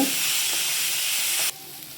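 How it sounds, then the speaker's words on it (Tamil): Loud, steady sizzling of curry leaves and green chilies sautéing in hot oil, a bright hissing crackle that suddenly drops to a quieter sizzle partway through. "ஒரு கொத்து கருவேப்பிலை இவ்வளோ சேர்த்து அப்படியே வதக்கி விடுறேன்"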